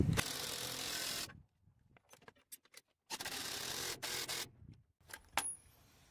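Mounting bolts on a Freightliner truck's driveshaft carrier bearing being worked loose with a ratchet or tools, giving bursts of metallic clicking and clanking separated by short quiet gaps, close by with no talking.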